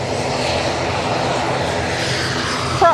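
An easyJet airliner bound for Paris, its jet engines giving a steady, loud broadband roar that holds throughout with a slight swell near the end.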